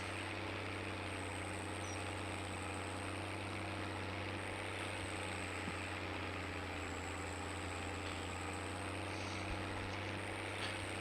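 A tractor engine drones steadily in a farming simulator game, a constant low idling hum with a high whine on top, loud and unbroken with no talk.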